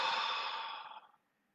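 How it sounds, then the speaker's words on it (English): A slow, steady exhale through the mouth during a breathing exercise, a soft breathy rush that fades out over about a second into silence. "breathing in through our nose, holding, and then breathing out through our mouth"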